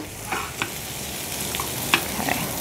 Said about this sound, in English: so we're just going to saute the asparagus for about 2 minutes